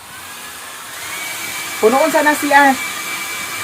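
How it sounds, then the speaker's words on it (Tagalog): A hair dryer blows hair dry with a steady, continuous whooshing hum throughout, while a person talks briefly over it midway. "Kay nahuman naman siya og blower. Uga na ang yahang buhok."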